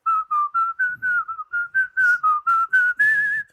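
A person whistles a quick melody of about a dozen short, clear notes in a steady rhythm, close and fairly soft.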